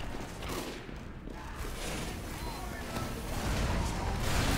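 Rocket launcher fire in Team Fortress 2 booms through a busy, dense battle mix, with repeated blasts and steady rumbling gunfire running under a voice.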